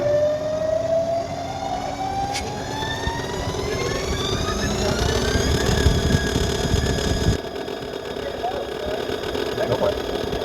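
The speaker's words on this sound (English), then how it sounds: "And let's go ahead and cut this chamfer." A CNC lathe cuts a chamfer on metal, giving a steady machine drone with whining tones that rise gradually across the pass before the sound drops slightly near the end.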